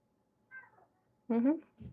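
A house cat meows loudly, upset about a shut door: a short faint mew, then a longer insistent wail and a low trailing sound, close by with quiet room tone between.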